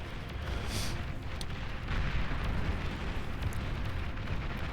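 Heavy, continuous rumbling explosions from a battle in the strategy game Beyond All Reason as tanks are blown apart by a D-gun, a dense roar of overlapping blasts that swells slightly midway and never lets up.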